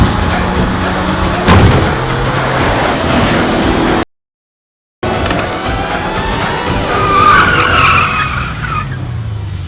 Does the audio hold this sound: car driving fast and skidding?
yes